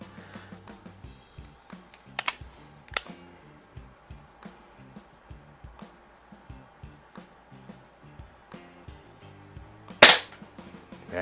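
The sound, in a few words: air pistol shots, Umarex Browning Buckmark pellet pistol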